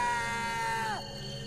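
A woman screams at a mother sheep, a loud sustained harmonic cry that bends downward and breaks off, leaving a fainter tonal sound behind.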